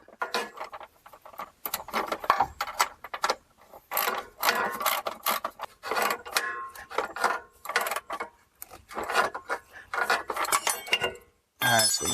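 A ratchet wrench snugging the rear shock absorber bolts on a Dodge Caravan, rapid clicking in repeated close bursts with short pauses between strokes, loud and crisp throughout.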